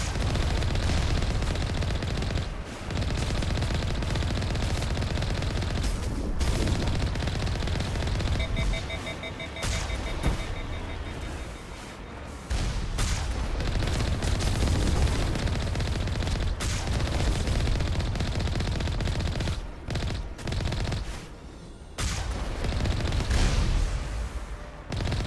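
Sustained gunfire in Mass Effect 1 on Insanity difficulty, a stabilized weapon firing amid battle with towers and Colossus enemies, loud and dense with booming impacts running nearly the whole time and brief lulls.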